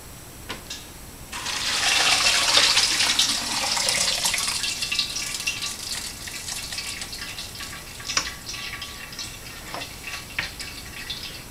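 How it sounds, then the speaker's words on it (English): Liquid home-brew mini mash pours through a sieve and a filtered funnel into a boil pot on the stove, a steady splashing rush that swells after a second, then thins into trickles and scattered drips. "So I'm going to pour this through my sieve and through my funnel with the filter"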